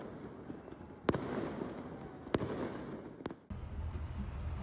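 A fireworks show seen from a high rooftop in an Italian city, with a steady crackling rumble of bursts and three sharp, loud bangs spaced about a second apart, ending in a denser low roar of explosions.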